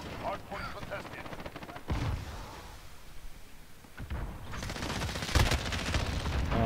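Call of Duty: Modern Warfare gunfire on an oil rig multiplayer map, rapid automatic bursts repeating through the clip with loud sharp volleys around two and four seconds, mixed with game ambience and voices.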